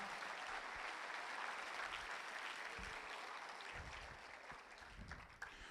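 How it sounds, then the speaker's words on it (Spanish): A church congregation claps loudly and steadily during a sermon, the applause thinning slightly toward the end with a few low thuds. "alguien dele un aplauso fuerte a nuestro Señor"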